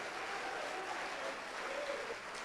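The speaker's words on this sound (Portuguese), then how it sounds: "dê para esta palavra a melhor salva de palmas que você já deu em toda a sua vida" A church congregation claps together in a steady, dense burst of applause, with a faint voice sounding over the clapping.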